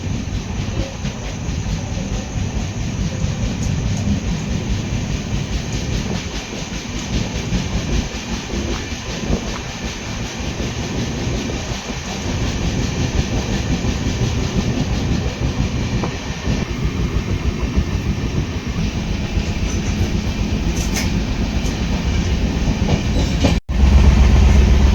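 Kurla Express passenger train from Lokmanya Tilak Terminus to Coimbatore running steadily, heard from inside a carriage as a continuous loud rumble with rhythmic wheel clatter throughout and no talk.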